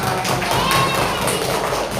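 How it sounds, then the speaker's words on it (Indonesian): A fourth-grade primary school class claps together in a classroom, a short burst of hand taps and thumps mixed with children's voices and a teacher speaking over the noise. "Tepuk tangan buat kita semua."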